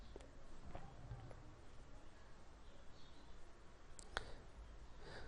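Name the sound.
computer mouse clicking on a profile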